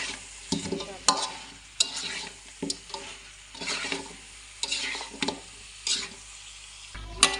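Pumpkin curry with beef is stir-fried in a pan, sizzling softly beneath repeated scraping strokes of a utensil that come in irregular bursts about once a second, close and fairly quiet.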